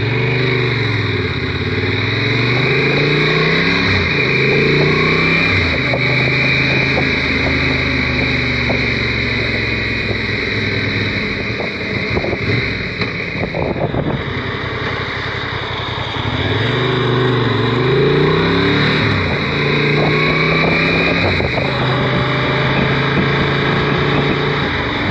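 A Honda Transalp XL 750 motorcycle cruising at about 30 mph, with a steady engine drone and rushing wind buffeting throughout, a brief dip midway, no talking.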